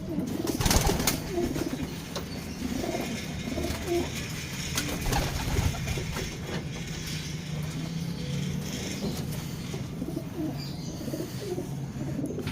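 Pigeons, a cock and hen loaded in a basket on a truck, coo repeatedly in low throaty bursts, close by, with faint traffic noise behind.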